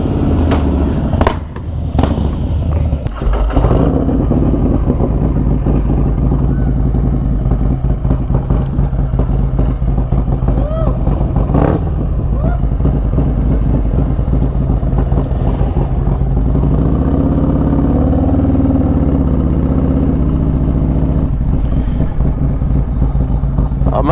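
Harley-Davidson performance bagger motorcycle with carbon wheels being ridden, a steady loud engine drone and road rumble running continuously up close, with a few sharp knocks near the start.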